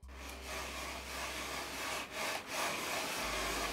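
A mouse sliding back and forth across a textured ROG mouse pad gives a faint continuous rubbing scrape with a couple of brief pauses between strokes, over a low background hum.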